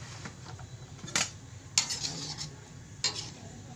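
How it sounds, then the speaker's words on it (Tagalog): Coconut milk for ginataang saging na saba stirred in a pot, with a low bubbling simmer under three sharp scrapes and clanks of a spoon against the metal. "Haluin natin."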